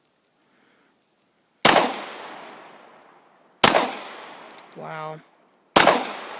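A Glock 19 Gen 3 pistol fires three sharp, loud shots at a target, about two seconds apart, each with a decaying echo tail; a brief voice speaks between the second and third shots.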